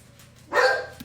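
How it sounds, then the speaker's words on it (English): Dogs at a home give a single sharp, fairly close bark that ends in a short yip, following a quiet moment. "the dogs are going crazy"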